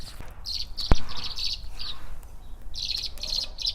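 House sparrows chirping near their nest in a garden during spring planting, bursts of bright repeated chirps in short clusters, fairly close, with quiet gaps between, plus one sharp knock partway through.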